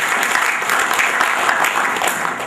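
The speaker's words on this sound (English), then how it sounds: "Please, can we give me a round of applause?" Dense applause from an audience at a Nigerian cybersecurity event, a steady wash of clapping that holds at full strength through the short moment, fairly loud and close.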